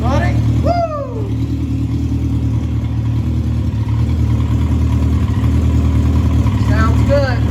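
A Legend race car built for dirt racing runs with a steady low engine rumble throughout, while people talk and whoop excitedly over it.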